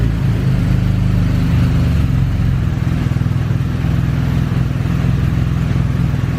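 A motorcycle engine idles steadily right after being switched on, a loud, close, continuous low rumble with an even pulsing beat and no talk.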